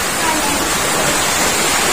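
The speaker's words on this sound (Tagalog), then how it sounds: "Dito na sa aming loob ang tubig baha." Floodwater from Typhoon Dante rushing through the inside of a house, a steady, loud broadband wash and roar like a waterfall or heavy rain that continues unbroken for about two seconds.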